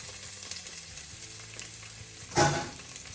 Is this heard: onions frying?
yes